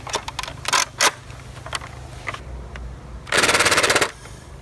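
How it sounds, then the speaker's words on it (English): A fully automatic Nerf Magstrike fires Elite foam darts outdoors, a scattering of sharp clacks and short bursts followed by one sustained rapid rattle of shots near the end. "now we're just going to do a shooting test with elite darts now"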